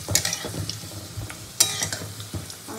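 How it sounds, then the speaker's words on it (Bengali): Potatoes frying in hot oil sizzle steadily while a utensil stirs and scrapes the pan in several sharp, close bursts, no talking. "আলুটা তো ভাজা হয়ে গেছে মোটামুটি"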